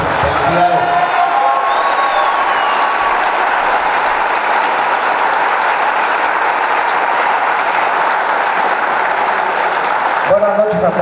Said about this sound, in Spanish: un aplauso para todos nosotros que estamos acá presentes porque nos lo merecemos